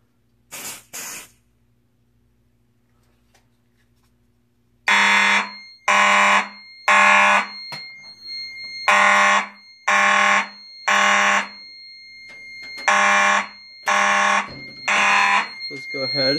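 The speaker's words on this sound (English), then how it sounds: "Let's go ahead, silence the alarm." A Fire-Lite MS-5UD fire alarm system under test sounds a loud, harsh horn in a regular pulsing pattern of about ten blasts, each roughly half a second long, after a brief hiss of smoke-detector test spray.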